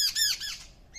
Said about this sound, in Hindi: ये देखिए चिड़िया कितनी जोर से बोल रही है,